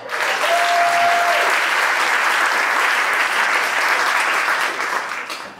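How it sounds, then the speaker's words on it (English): Sustained applause from an audience at a speech, steady and loud throughout, tapering off slightly at the very end. "Round of applause."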